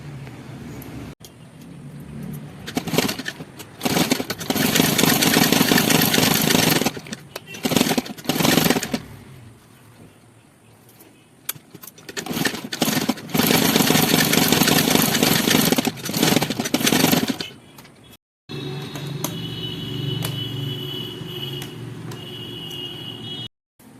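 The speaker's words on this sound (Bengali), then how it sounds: "এবার এটা আমি সেলাই করে নিচ্ছি।" An electric sewing machine stitches the seams of an old sari being made into sarara pants, running in loud whirring bursts of several seconds each with short pauses between, then a quieter steadier stretch near the end.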